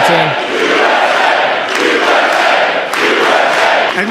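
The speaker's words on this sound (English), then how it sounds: "Now there's chanting." A large political rally crowd chants loudly and steadily in rhythmic unison, a dense roar of voices filling the space throughout with brief swells and no clear single speaker.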